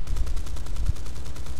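Rapid machine-gun fire from a Mustang Mk1 fighter in War Thunder, a loud, continuous close burst of rattling shots lasting under two seconds, with no voices.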